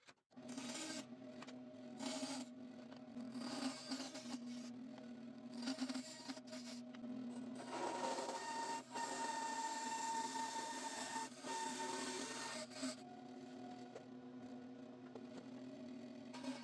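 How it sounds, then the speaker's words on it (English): A roughing gouge cuts into a wooden spatula blank in a continuous buzzing, scraping run of chips being pared away, fairly close and quiet, with no voices. "I started out by using my roughing gouge."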